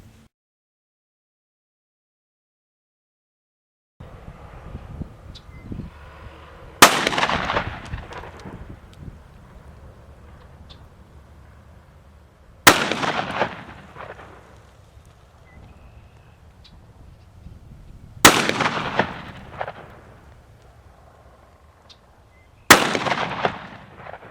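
A Remington 11-87 shotgun fires Winchester Foster-type slugs outdoors, four loud, sharp blasts spaced roughly six seconds apart, each with a brief rolling echo, over quiet background rustle after a silent start.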